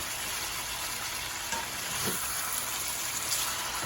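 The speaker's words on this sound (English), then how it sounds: "We're going to give a quick toss of the onions in there." Onions tossed and stir-fried in a pan for a lemon honey chicken stir fry give a steady, dense sizzle with faint stirring movement underneath, close and continuous with no speech.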